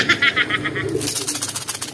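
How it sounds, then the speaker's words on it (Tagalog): Racing pigeons coo in soft repeated bursts, close by, as they settle into the loft after arriving from a race, followed by rapid wing flutters. "nagpasukan na lahat ng ibon natin, maliban na lang kay Cardell na na-stack up"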